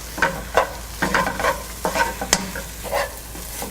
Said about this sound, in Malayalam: ടൊമാറ്റോ നന്നായിട്ട് വഴറ്റിയെടുക്കുക.